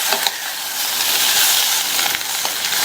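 Radish masala frying softly in a pan on a low flame, giving a steady, close, hissing sizzle with a few faint clinks, and no voices.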